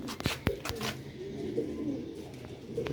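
Grey Sialkoti rooftop pigeons coo softly in low repeated calls, with a few sharp flutters or taps near the start, heard fairly close against faint outdoor background.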